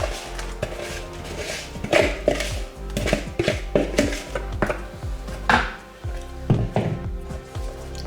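A spoon scrapes and taps against a baking pan while thick Nanaimo bar mixture is scooped in, giving irregular close knocks and soft scraping with no talking.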